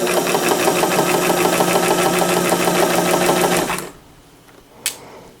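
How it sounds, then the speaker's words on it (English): Sewing machine fitted with a new motor and running a noisy belt while stitching stretch lace, a loud, steady rapid whir with rhythmic clatter that stops abruptly, followed by low room noise and one soft knock. "Still getting used to my new motor sound. I think the belt is noisy too."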